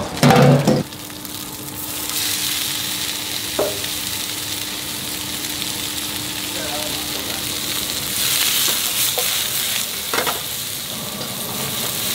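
Bitter melon stir-fried in a hot wok for a Cantonese dish, a continuous loud sizzle with occasional stirring scrapes and clatters, an initial short burst of noise at the start.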